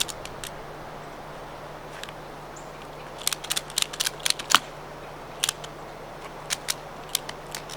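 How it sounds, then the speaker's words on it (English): A predator trap ratcheted shut outdoors, a run of sharp metallic clicks in quick bursts close by over steady background hiss and a low hum. "So let me ratchet it closed."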